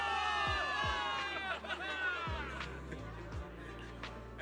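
Crowd cheering for victory in Zenless Zone Zero: many voices shouting and whooping together, loud and lively, with heavy rhythmic thumps beneath the babble.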